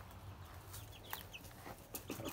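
Backyard chickens cluck in short, scattered bursts at close range, with an occasional louder call over a steady low hum.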